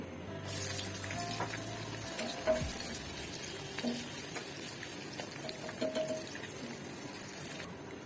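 Chopped onion sizzles and fries with beef in a pan, a steady close hiss broken by a few clinks and stirring sounds.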